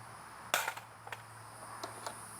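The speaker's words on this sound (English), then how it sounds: "I'm gonna do the shoulder height drop test onto concrete on the feed lips" An empty Magpul Gen M3 rifle magazine dropped from shoulder height onto concrete, landing feed lips first with one sharp clack and then a few smaller bounces and rattles, alone in a quiet room.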